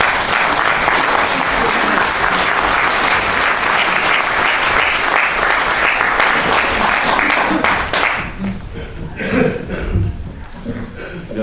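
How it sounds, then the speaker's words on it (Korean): A Korean gathering on the 1969 KAL hijacking applauds to greet the representative of the victims' association, a loud and close burst of clapping that fades and thins out after about eight seconds. "경례의 박수를 보내주십시오"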